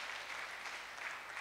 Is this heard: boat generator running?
no